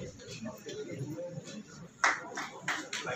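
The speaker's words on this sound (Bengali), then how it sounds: "জোরে হাত তালি।" A few scattered hand claps ring out from the audience at Gargi Memorial Institute of Technology's (GMIT) tenth-anniversary celebration, sharp and separate, after a quiet stretch of low murmur and shuffling.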